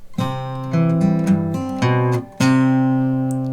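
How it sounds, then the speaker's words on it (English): Country blues guitar phrase with plucked notes and a bass line that steps down to B before resolving to C. The notes ring out clearly and alone, ending on a sustained chord. "It's that drop down to the B as we come back to C."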